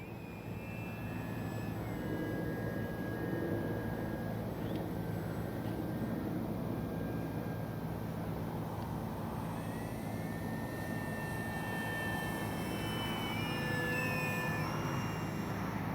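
An X-Fly Spitfire radio-controlled model warplane flies at an RC airfield, its engine a continuous droning buzz that rises and falls in pitch as it passes, fairly faint and steady throughout, with no voices.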